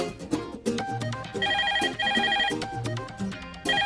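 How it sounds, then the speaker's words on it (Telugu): A mobile phone ringtone playing a repeating electronic melody of short bright notes, fairly loud and close, with no voices over it. "ఫోన్ చూడు."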